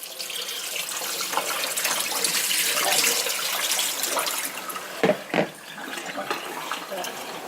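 Starchy potato water pours out of a bowl into a sink, a continuous splashing rush with a couple of louder sloshes near the end.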